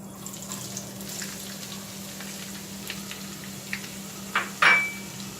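Onion fries quietly in a pan under a low steady hum, with a few soft taps and a sharper clatter near the end.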